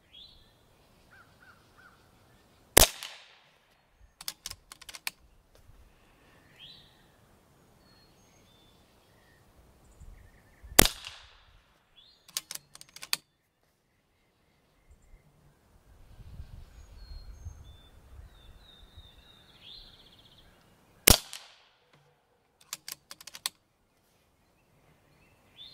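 A BRK Ghost .25 air rifle fires three sharp, loud shots spaced several seconds apart, each a sudden crack followed by faint mechanical clicks and handling noise, with quiet background between.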